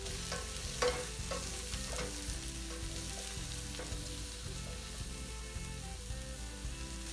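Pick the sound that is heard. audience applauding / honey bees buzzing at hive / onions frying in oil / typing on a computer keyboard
onions frying in oil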